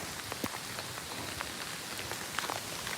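Steady rain patters on surfaces around open-air and roofed animal enclosures at a big cat rescue, a soft, continuous wash with scattered louder drops, fairly quiet and with no voices.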